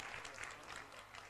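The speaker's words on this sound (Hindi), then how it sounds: "तालियां बजाकर ज्ञानदान की अनुमोदना" Applause from an audience at a Jain religious discourse, approving a donation for students' education; a steady, faint wash of clapping fills the short stretch without pause.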